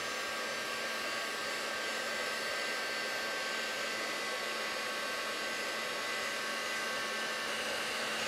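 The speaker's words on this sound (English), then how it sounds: "next you're gonna bring a heat tool in and give it a good dry" A heat tool blows steadily to dry wet tissue paper on a craft project, giving a loud, constant broadband whoosh that runs unbroken for the whole stretch with no talking.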